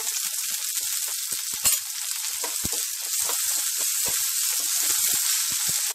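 Curry leaves added to a hot-oil tempering with mustard seeds, dried red chilli and dal, giving a steady bright sizzle with scattered crackles and small pops, close and moderately loud, with no voices.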